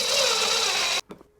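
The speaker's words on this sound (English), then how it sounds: "you'll use the 1¼ inch pocket hole screws to attach it to the side" A power drill drives a 1¼ inch pocket hole screw into wood while assembling a drawer system, a loud close steady whir for about a second, then a short release and a brief second burst.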